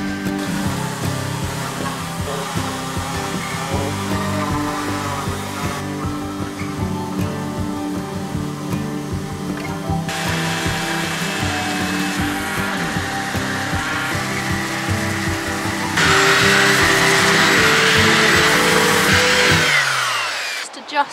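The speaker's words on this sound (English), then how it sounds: "sand back a few bits ready for some painting, as well as just smoothing out the edges of the oak that I've used as the step lids" Power sander working over oak boards used as step lids on a narrowboat refit, a loud steady motor whine with a rough grinding texture running throughout, growing louder near the end before cutting off.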